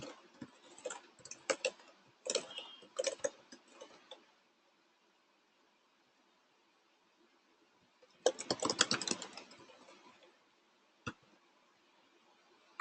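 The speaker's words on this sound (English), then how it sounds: "Now if I keep typing," Fingers tap out bursts of quick, crisp clicks on a computer keyboard, with a few short runs, a long silent pause, then one dense flurry of keystrokes and a single late click. No one speaks.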